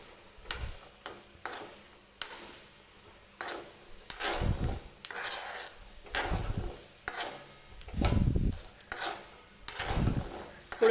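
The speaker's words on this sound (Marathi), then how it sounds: "हे शेंगदाणे भाजताना अजिबात घाई करायची नाही. अगदी खरपूस होईपर्यंत आपल्याला हे शेंगदाणे भाजून घ्यायचे आहेत." Peanuts are stirred while roasting in a dry pan, a spoon scraping and clinking against the metal in repeated close, uneven strokes with soft rattling between.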